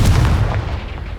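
Confringo fire spell blast in the video game Hogwarts Legacy: a single heavy, booming impact that rolls off into a fading rumble, loud and close.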